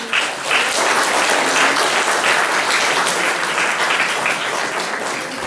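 Audience applause at a communication conference, a dense, steady wash of many hands clapping, loud and sustained for several seconds with no talk over it.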